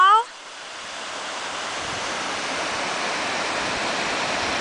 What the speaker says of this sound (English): that is my waterfall